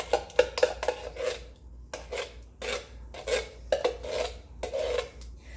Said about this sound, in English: got a spoon to get the rest of the yummy pumpkin out